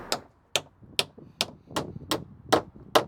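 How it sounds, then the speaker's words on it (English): Eight sharp hammer strikes driving nails into wood panels of a doghouse in a steady rhythm, each a crisp bright knock with brief ring, close up and alone. "We're just gonna nail this in with old school hammer and nails."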